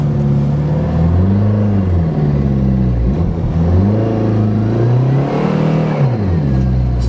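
A farm vehicle's engine revs up and down in winter while a wheel spins, a loud steady rumble rising and falling in pitch in repeated surges.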